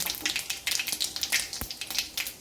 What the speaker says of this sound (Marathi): राई आणि जिरे छान असे तळतळ द्यायचे